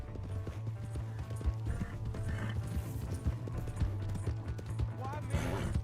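Horse hooves clip-clop steadily in Red Dead Redemption 2, a continuous galloping rhythm close up under game music, with a voice shouting over it.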